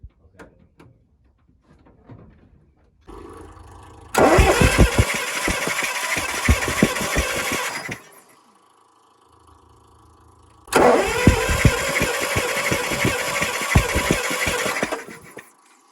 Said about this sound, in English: Okay, crank when you're ready.